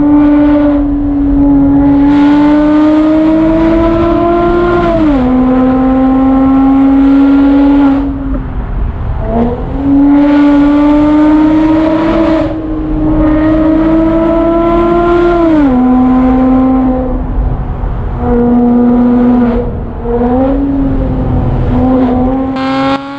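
Porsche Boxster S with a valved aftermarket exhaust revving repeatedly, the loud, close engine note rising through several long pulls and dropping back between them, with no talk.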